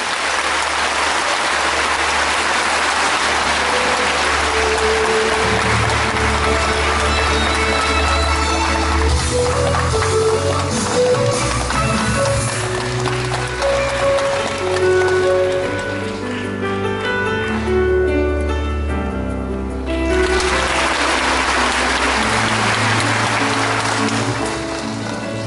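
An audience at a forum on humanities values gives sustained applause to welcome keynote speaker Ban Ki-moon. The dense clapping carries on for the full stretch and thins briefly once before surging again, with no voices on top.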